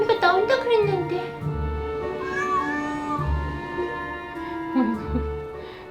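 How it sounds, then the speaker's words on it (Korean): A cat meows repeatedly, long drawn-out wailing cries close by, with low voices murmuring in the background. "시끄러워 죽겠어 고양이"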